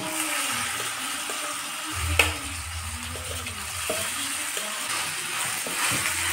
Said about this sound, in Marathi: तर इथे लसूण मस्त फ्राय होतोय.